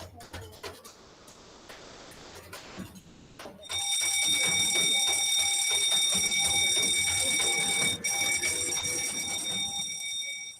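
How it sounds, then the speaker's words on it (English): A building fire alarm sounds loud and steady, a continuous electronic tone with bright harmonics kicking in after a few seconds of quieter background noise and murmuring, then holding unbroken to the end. "Saat mendengar alarm kebakaran"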